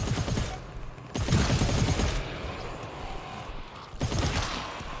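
Bursts of machine gun fire in the GTFO video game, several loud rapid volleys separated by short pauses, fairly close, with no talking over them.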